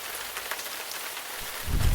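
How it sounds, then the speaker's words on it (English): Rain falls in the English countryside as a steady, close patter on surfaces, with a low rumble swelling briefly near the end. "it's raining"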